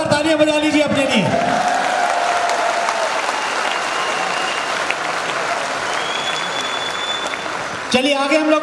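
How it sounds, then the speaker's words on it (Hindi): A large seminar audience applauds loudly, a dense, sustained burst of clapping lasting several seconds, with someone speaking briefly before and after it. "एक बार जोरदार तालियां बजा लीजिए अपने लिए।"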